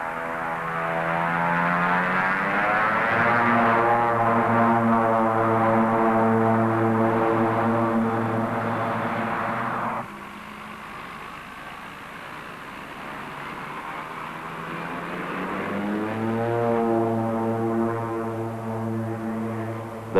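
A Pilatus PC-6 Porter propeller aircraft's engine drones loudly and steadily, its harmonic pitch shifting as the plane passes, dropping briefly before swelling again.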